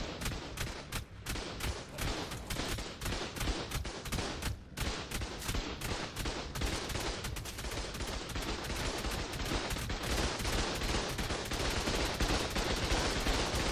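Rockets fired at defensive turrets guarding a cave in ARK: Survival Evolved, heard as dense, continuous explosive gunfire-like blasts that build steadily and stay loud throughout, without speech.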